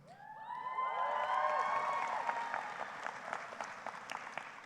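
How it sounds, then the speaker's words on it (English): Graduation audience at a high school ceremony applauding steadily, with high cheers and whoops rising over the clapping early on, the crowd sustained and fairly loud throughout. "And I know why you're applauding."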